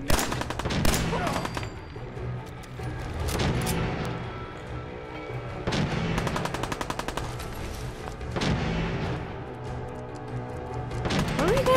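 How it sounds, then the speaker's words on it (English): Video game gunfire in Fallout 4: repeated bursts of rapid automatic shots in waves, loud and close, with heavy impacts between bursts and occasional voices underneath. "What are you guys shooting at?"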